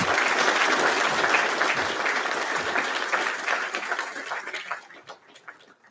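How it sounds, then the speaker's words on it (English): An audience at a candidate forum claps loudly and steadily, then the applause thins out and fades to a few scattered claps. "Let's have one big round of applause for all three of our candidates."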